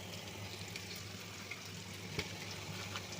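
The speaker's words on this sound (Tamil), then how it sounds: "ஆனியன் போட்டிருக்கேன். நல்லா வதங்கணும்." Onions sautéing in a pan of oil for vegetable biryani, a steady, even sizzle held close by for the whole stretch, with one small sharp tick partway through and no voices.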